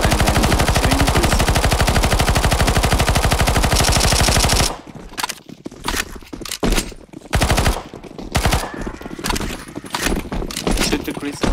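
Rapid, continuous automatic gunfire in the CS2 Zombie Escape game as players shoot at a crystal, a dense loud stream for about four seconds, then scattered bursts and shots with talk mixed in.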